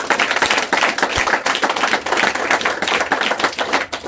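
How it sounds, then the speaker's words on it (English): A crowd at a business opportunity event in Boston breaks into loud, dense applause that goes on steadily throughout, many hands clapping close together. "Give yourselves a round of applause."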